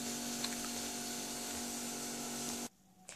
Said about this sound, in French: Désolée pour le bruit dehors, hein, c'est mes voisins qui font des travaux.